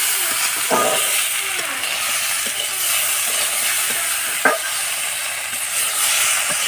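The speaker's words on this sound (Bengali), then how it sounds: "মরিচের গুঁড়ো দিয়ে দিয়েছি। কষা হয়ে গেছে। মরিচের গুঁড়ো দিয়ে ভালো মতন লেড়ে চেড়ে কষে নেবে।" Vegetable curry with tomato and chili powder stirred and sautéed in a pan over a stove, a steady loud sizzle and hiss with occasional scraping stir strokes, close up and without talk.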